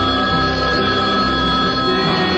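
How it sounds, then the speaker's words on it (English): A telephone rings with a bright, continuous electronic trill, loud and close, filling the whole moment. "Celebrity line ringing."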